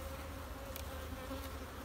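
Honey bees swarm around an open hive during a mite check, making a dense, steady buzz that stays close and continuous with no speech.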